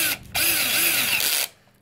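A $50 cordless drill with a 20-volt 1.5 Ah lithium-ion battery spins up in a loud, steady whine for about a second, then stops abruptly. No one talks over it.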